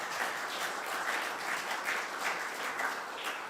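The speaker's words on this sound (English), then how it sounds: "A round of applause for Nepal and its technology team as well." Steady applause from the audience at a Nepal-UK tech forum, a dense, even wash of many hands clapping together, moderately distant and continuous throughout with no voices over it.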